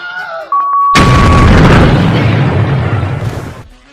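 A comedic bomb blast on a scooter: one sudden loud boom erupts after a brief high electronic beep, then a dense roaring rumble fades out over a few seconds, with no talking.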